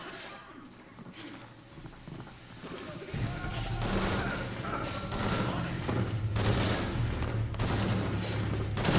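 Gunfire from the video game Shadow of the Tomb Raider builds into a dense, continuous barrage of shots and thuds, growing louder after a quieter start, with a voice briefly heard beneath it.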